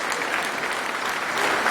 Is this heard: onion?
no